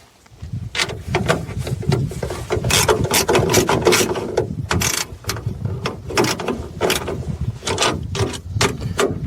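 A ratchet tightens bolts on a frunk mount in a BMW iX3, giving rapid, close, continuous clicking strokes in repeated bursts that run through the whole stretch.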